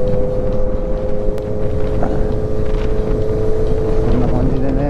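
A 440R6 motorcycle rides along the road on a spring motovlog outing, its steady engine drone loud and continuous beneath heavy wind buffeting on the helmet microphone.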